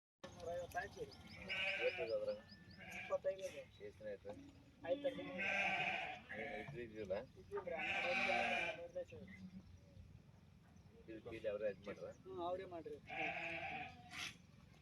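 A flock of sheep bleats repeatedly and overlapping at moderate distance in a Yadgir village setting, the calls rising and falling over about fifteen seconds amid faint background noise.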